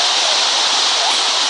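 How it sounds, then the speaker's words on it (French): Steady broadband rushing water from a waterfall in a video game set in Antarctica, a continuous even roar with no breaks, played alone without any voices over it. "Il y a des cascades."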